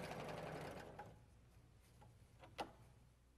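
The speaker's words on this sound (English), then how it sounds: "Lower the presser foot and start serging." A Huskylock 936 serger runs in a fast, even mechanical whir for about a second, then slows and stops, leaving faint ticks and a sharp click near the end at close range.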